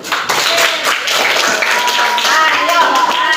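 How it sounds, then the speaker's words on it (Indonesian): A school class applauding together for a group presentation: fast, dense clapping from many hands, close and loud, with children's voices mixed in. "Tepuk tangan dulu."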